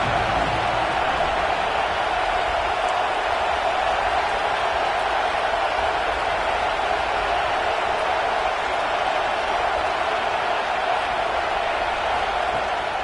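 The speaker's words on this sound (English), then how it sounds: "Decibels rising as the crowd gets behind this defense on third down." A stadium crowd at an American football game roars steadily behind the defense on third down, a dense, sustained wall of cheering and noise that holds at full volume throughout.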